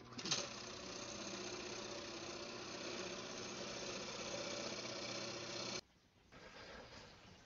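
A wood lathe hums and rumbles steadily as it spins a brook trout bowl driven by friction against a padded waste block, then cuts off abruptly and restarts more quietly.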